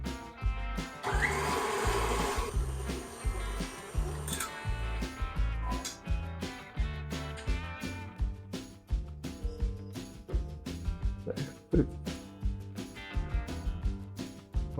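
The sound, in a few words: electric mixer creaming ingredients for brownie pie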